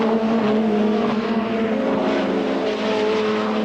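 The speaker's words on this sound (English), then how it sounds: "In car now with Win Percy in 5th position, past Crudgington." A 1989 British Touring Car Championship touring car roars at full race pace, heard from the in-car view as a loud, sustained engine drone with steady pitch that dominates throughout.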